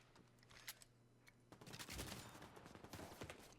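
Gunfire erupts in The Division 2 as specialization ammo is fired at an explosive enemy, a loud dense burst of rapid shots after a quieter start, with sharp cracks earlier.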